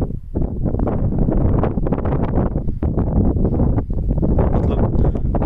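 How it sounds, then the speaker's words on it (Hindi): Gusty wind blows across open outdoor fish farm ponds and rumbles steadily into the microphone, a loud, continuous roar with uneven surges and no talking. "हवा चल रही है गाइस थोड़ी, उसके लिए सॉरी।"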